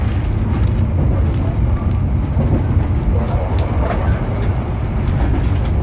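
A passenger train rumbles past nearby, heard from aboard another train crossing it, a loud continuous roar with faint rhythmic clatter of wheels.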